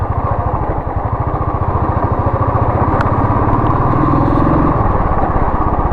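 A motorcycle engine runs steadily and loud on a cold day, with a fast, even ticking tappet chatter from the valves under the throbbing exhaust.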